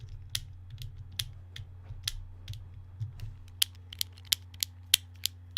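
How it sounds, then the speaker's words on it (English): A fidget cube switch is pushed repeatedly, giving a run of small, close mechanical clicks, soft at first and then sharper and evenly spaced. "Now this switch is one of my favorite ones to push. So this one's losing its click."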